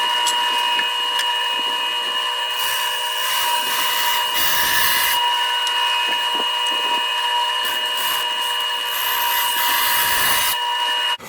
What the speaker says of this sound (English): And to cut that notch, I'm going to use my bandsaw.